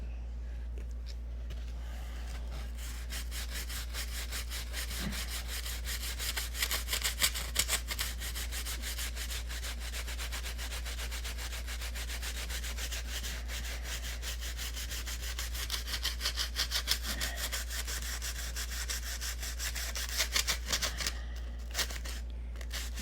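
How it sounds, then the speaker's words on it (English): Hardened CA glue being sanded by hand on a Mega Tucker model: a steady, close, scratchy rubbing that runs continuously, with a few sharper, louder strokes mixed in and no voices. "You can hear that CA grinding in there"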